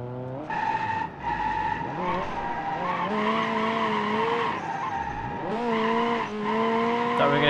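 In BeamNG, a car drifts with a sustained, wavering tire squeal layered over a steady engine drone, pitch sliding up and down with each slide, loud and continuous throughout, no talking.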